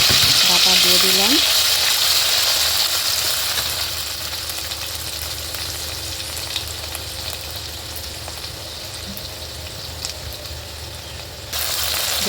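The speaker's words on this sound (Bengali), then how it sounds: "এখন কড়াইতে তেল দিয়ে দিলাম, পেঁয়াজ কুচি দিয়ে দিয়েছি" Chopped onion, green chili and garlic-ginger paste frying in hot oil in a wok-style kadai, a steady close sizzle that is loudest at first and settles to a softer crackle, with a brief clink near the start.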